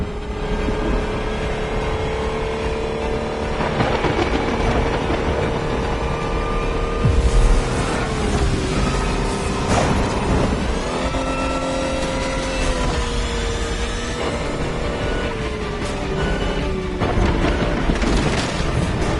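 A street-illegal high-horsepower car accelerates and revs hard, its engine note rising and falling in loud sweeping bursts with a thudding boom partway through, continuous and close throughout.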